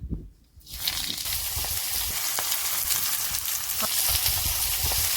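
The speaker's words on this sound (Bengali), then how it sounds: "রান্না করার তেল দিয়ে দিচ্ছি কালো জিরে ফোড়ন দিয়ে দিচ্ছি" Black cumin seeds tempered in hot cooking oil, a dense, continuous sizzle and crackle rising after a brief quiet start, close and loud with scattered pops, no voices over it.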